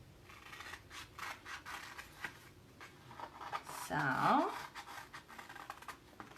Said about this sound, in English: gotta love my safety scissors.